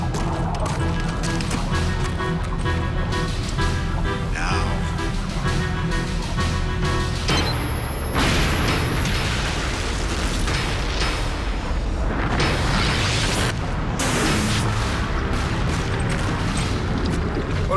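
Sci-fi weapon fire and heavy explosions on Stargate SG-1 roar continuously, with dense booming bursts and crackling blasts that build toward louder hits around the middle, mixed with faint voices.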